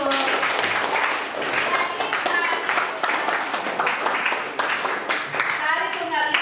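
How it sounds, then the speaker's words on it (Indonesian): Children clap in a classroom amid lively overlapping kids' chatter, a steady busy mix of hand claps and voices throughout. "Iya, tepuk tangan dulu"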